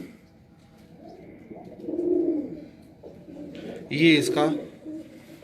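A pigeon coos on a rooftop in soft, low rounded phrases, twice swelling louder, while someone talks over it close by.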